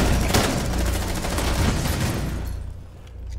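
Loud, sustained full-auto gunfire from the Rainbow Six Siege video game, a dense rattling burst that dominates before cutting off and giving way to a softer tail.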